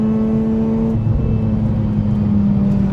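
A Mazda RX-8 rotary engine revving hard up to about 8,500 rpm, a loud, close, smooth continuous whine whose pitch climbs and holds without stutter, with no speech over it.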